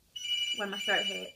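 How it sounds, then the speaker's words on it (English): A telephone rings with a steady high electronic tone while a person speaks over it at close range. "That was the phone."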